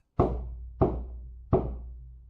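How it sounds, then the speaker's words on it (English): Three heavy knocks on a bedroom door, evenly spaced and loud, each a solid thud with a short resonant tail. "a loud knock at the door woke me up"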